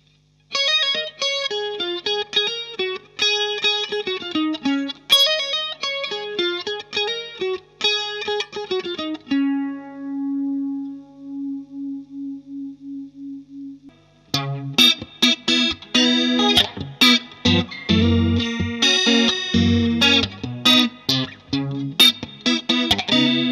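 Electric guitar played through a Boss CE-2 chorus pedal with altered knob settings, shimmering chorded phrases, then a sustained held note, followed by busier strummed and picked passages, loud and alone with no talking.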